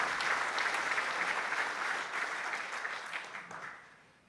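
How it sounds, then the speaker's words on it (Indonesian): Audience applause for the commandant at an Indonesian military staff college (Sesko TNI) ceremony, a steady, dense clapping that holds for several seconds and then tapers off near the end. "Tepuk tangan untuk komandan kita."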